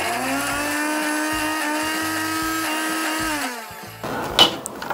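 A blender grinds onion with vinegar, anchovy fish sauce and plum syrup, its motor whirring in a steady loud drone before winding down and stopping, followed by a few close clatters as the lid is handled.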